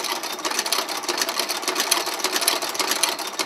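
A pedal-driven leather sewing machine in a leather workshop runs continuously, its belt and clutch discs engaged, producing a loud, steady rapid clatter of the needle mechanism with no talk.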